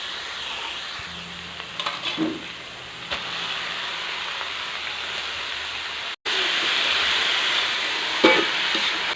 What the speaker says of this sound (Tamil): இதில் வந்து நம்ம கழுவி சுத்தம் பண்ணி வச்சுருக்கிற கீரையை சேர்த்துக்கலாம்